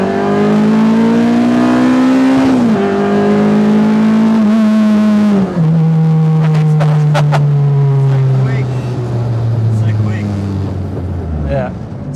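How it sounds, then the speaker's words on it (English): A GT car fitted with adjustable individual throttle bodies and a six-speed gearbox accelerates hard through several gears, a loud engine note climbing then dropping at each shift, heard close from inside the cabin. "we're going to go for a bit of a drive so you can hear how this 6-speed sounds"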